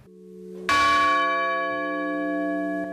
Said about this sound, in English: Bells rang 40 times to honor the victims who died when United Flight 93 plummeted into a Somerset County field